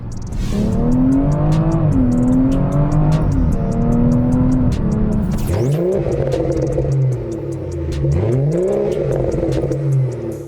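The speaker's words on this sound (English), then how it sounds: "That immediate throttle response is like overwhelmingly better than stock" A BMW F30 340i with the B58 engine accelerates hard, its loud, close engine note climbing steadily in revs, dropping briefly at a gear shift midway, then rising again. No one speaks.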